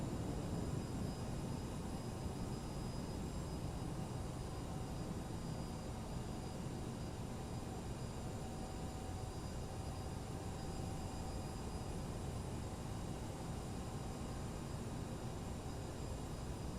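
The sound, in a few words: CRJ 700 jet taxiing, Microsoft Flight Simulator video game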